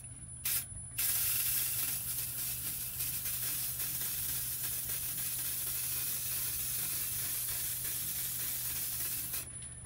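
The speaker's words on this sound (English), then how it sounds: "So using Rust-Oleum Painter's Touch white spray, we're going to turn this on slowly and just give it a couple of coats." Rust-Oleum Painter's Touch white aerosol spray paint sprayed onto a turned copper centrifuge bowl, a loud continuous hiss held for nearly ten seconds after a couple of brief opening bursts, close and steady.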